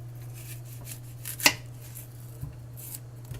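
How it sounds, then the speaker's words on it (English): A large knife slices through the end of a white onion on a cutting board, one sharp close chop standing out over a low steady hum, followed by a fainter second knock. "You're going to want to take your white onion and my large knife. What am I doing? Cut off the ends."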